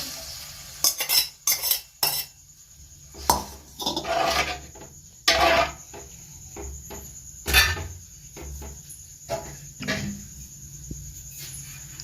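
Metal utensils scrape and clink against a pan as Manchurian sauce mixed in water is added and stirred, in irregular bursts, with a steady high insect-like hum in the background.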